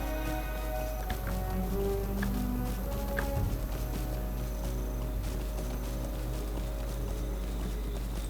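Steady clip-clop of horse hooves at a walk in the Lord of the Rings Online video game, a regular moderate rhythm set against continuous game music and ambience.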